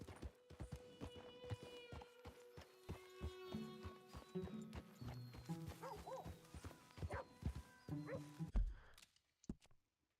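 A horse in the game Red Dead Redemption 2 trots through town, hooves clip-clopping in a quick steady rhythm with a couple of whinnies near the end, then fades out.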